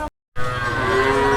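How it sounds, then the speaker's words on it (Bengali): A cow at the Hozrotpur cattle market, sold ahead of Qurbani, gives one loud, sustained low moo right after a brief silence, close by and alone without talk. "সুন্দর একটি গরু ফেরত নিয়ে যাচ্ছে"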